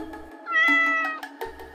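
A small kitten met outdoors on a quiet night walk gives a single clear, close meow lasting about a second, rising and falling, with near silence around it.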